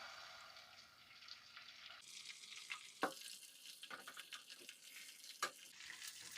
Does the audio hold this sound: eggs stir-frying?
yes